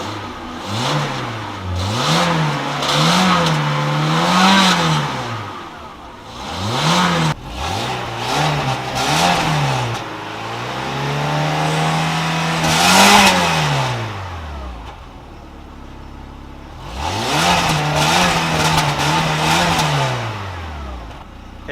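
An Audi A3 engine fires up and revs repeatedly, with rising and falling blips of throttle and a long sustained rev, close and loud with short pauses between bursts.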